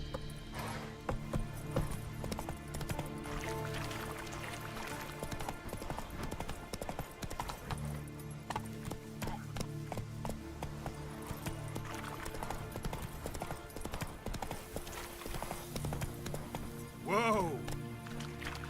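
Roach the horse gallops in The Witcher 3, hooves clip-clopping in a steady, quick rhythm beneath game music and voices, with a brief louder burst near the end.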